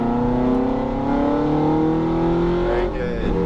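A Ferrari F430 F1 pulls hard on a racetrack, its engine note a loud, smooth, rising drone heard from inside the car, with a brief dip near the end as the gears shift.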